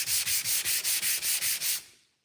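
Rhythmic back-and-forth scraping of hand sanding on a 1968 Chevrolet C10 truck body panel, about nine even strokes close up, then stopping with a brief knock at the end.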